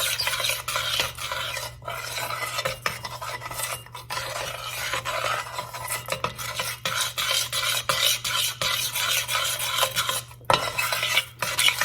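A spoon stirs chocolate chunks into hot brownie batter as they melt, making a steady, close scraping and swishing against the bowl with brief pauses and no talking.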